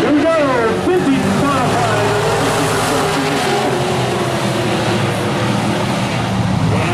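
Vintage modified race cars roar around the South Sound Speedway oval, a loud continuous engine drone with rising and falling pitch as cars pass, while an announcer speaks over it.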